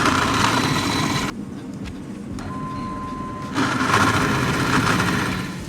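Drilling holes through a bare stub axle from an XF Falcon at a machine shop: a loud, steady grinding machine drone fills the opening and closing seconds, dropping to a quieter hum in between with a faint tone.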